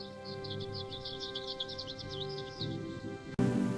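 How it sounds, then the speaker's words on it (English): Small birds chirp in quick, bright bursts in a park, a light flutter of tweets over a steady background hum, ending with a sudden louder noise. "little birds would fly down, chirping happily as they shared the meal."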